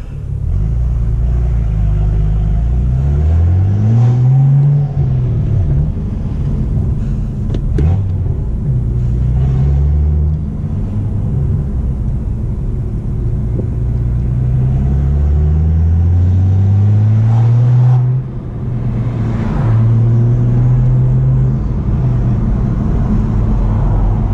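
A BMW M2 creeps along in slow, stop-and-go traffic, its engine a steady low rumble inside the cabin with gentle rising and falling revs as it pulls away and eases off repeatedly.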